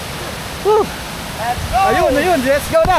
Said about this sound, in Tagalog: Ang pinapakinggan ko kasi yung lagaslas ng tubig.